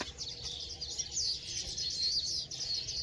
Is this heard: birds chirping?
yes